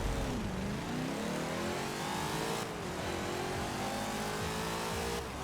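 In Forza Horizon 4, a wheelspin drag-build car's engine revs hard in a drag race, pitch climbing and dropping sharply at each gear change as it pulls on, loud and close with no talking.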